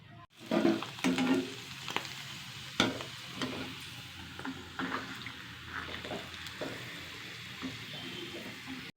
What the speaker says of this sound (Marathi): आपली पापडी तेलात टाकली की एकदम फुलतली जाते अशा सर्व पापड्या तळून घ्याव्यात